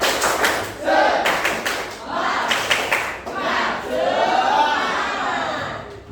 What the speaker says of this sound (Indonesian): kita mulai dengan tepuk semangat